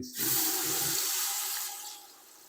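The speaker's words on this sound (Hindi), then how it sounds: "थोड़ा सा पानी डालेंगे जग में और ये गंगाल भी साथ ही डाल देंगे" Water poured from a jug into a cooking pot of chicken korma paste and hot ghee, a loud close broadband splash and rush that tails off after about two seconds.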